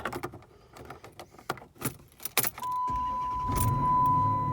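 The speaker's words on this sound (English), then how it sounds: "And I'll go ahead and start it for you." A 2010 Dodge Charger starts up after a few clicks and door or key sounds, the engine catching and settling into a steady, close idle with a faint whine riding on top.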